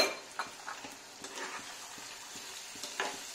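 Chowmein noodles stirred in a pan, soft scattered clinks and scrapes of a utensil over a faint background sizzle, fairly quiet and close.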